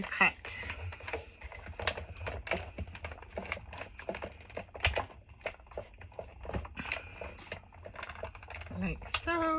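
A die cutting machine presses a plate through paper, giving a run of quick clicking and crunching mechanical pulses at close range that sound almost like typing.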